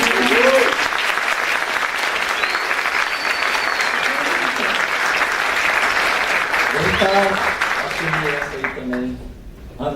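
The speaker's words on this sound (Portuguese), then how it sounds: "uma salva de palmas para o Italinho" A conference crowd at a Python developer event claps loudly for a speaker, sustained applause with a few voices and cheers mixed in before it tapers off at the end.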